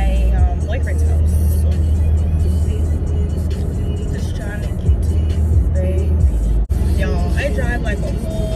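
Steady low engine rumble and road noise from inside a moving car, continuous throughout with a brief dip near the end, while someone talks over it.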